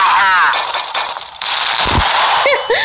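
A flash bang goes off in a video game with a loud, close, broadband burst and hissing roar, followed by a second blast and a few ringing, metallic tones.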